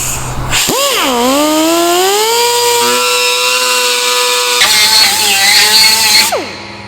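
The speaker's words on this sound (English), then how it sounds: "So what I will do is I will grind this away" A power grinder cuts away metal on a third-generation Toyota 4Runner for a snorkel install, spinning up into a loud, close, whining drone that holds for about six seconds and then winds down.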